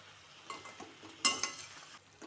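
Chopped snake gourd is stirred into fried masala in a pan, with quiet scraping and soft clatter from the spoon over a low sizzle, including one sharper metallic knock near the middle.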